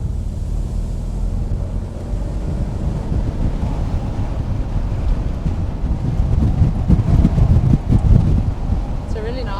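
Strong wind buffets the microphone on a windy day in Port Elizabeth beside a car, a loud continuous low rumble with gusts that build toward the end.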